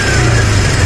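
A 2023 Kawasaki Barako 175 motorcycle engine runs close up, a loud, steady low rumble with no break.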